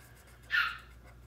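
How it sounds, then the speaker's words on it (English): A dog gives a single short, high whine or yelp from nearby in a quiet room, lasting about half a second. "Sorry, that was my dog."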